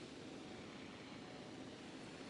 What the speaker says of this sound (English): I do apologise for the loud noise of the helicopter